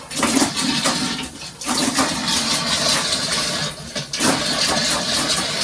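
Water rushes out of a pressurized well pressure tank into a bucket, a steady, loud broadband gush that runs the whole time with two brief dips near the start and middle.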